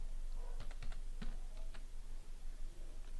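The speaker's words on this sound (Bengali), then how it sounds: "নেক্সট আবার আমরা এন্টার দেবার পর ট্যাব দেব।" Computer keyboard keys are pressed at a desk while working in Microsoft Word 2007, a handful of separate crisp clicks and taps spaced irregularly, quiet and close with no talking.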